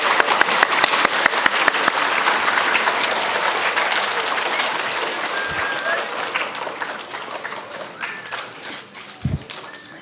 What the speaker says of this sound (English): Let's give our kindergarten friends a round of applause.